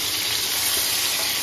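Potatoes frying in hot oil in a pan with cumin, bay leaf, dried chilli and whole garam masala, a steady broadband sizzle that holds evenly close to the pan, with no voices.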